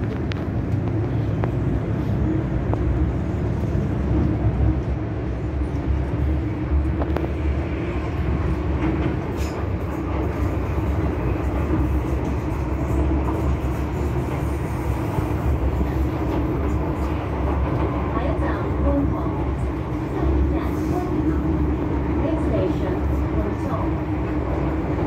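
A Hong Kong MTR M-train running, a continuous low rumble and rail hum from inside the moving carriage, steady throughout, with a voice speaking over it at times.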